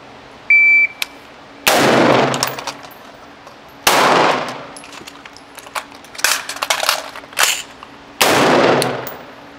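Gunshots at an outdoor shooting range, a handful of sharp cracks and short strings of rapid shots spaced across the stretch, loud and close with ringing decay.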